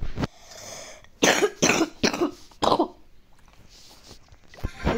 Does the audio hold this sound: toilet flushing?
no